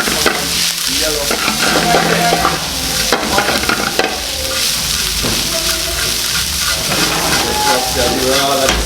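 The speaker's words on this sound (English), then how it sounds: "Just a light saute on that to change the color of the onions." Onions sizzle and crackle steadily in a hot pot while being sauteed and stirred, with scraping and clinking throughout and faint voices in the background.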